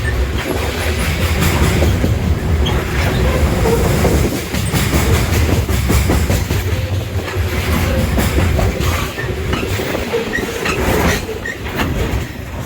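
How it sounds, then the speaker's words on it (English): A long freight train rolls steadily past nearby on the Kiski Junction line, a continuous loud rumble with rhythmic clickety-clack of wheels over rail joints and occasional faint squeals, sustained for the whole stretch. "It's a pretty long train."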